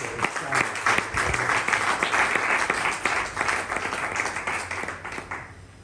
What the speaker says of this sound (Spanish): Y dé un fuerte aplauso al Señor.